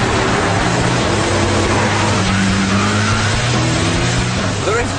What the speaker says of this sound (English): There is quite a lot of turbo lag with this big V8.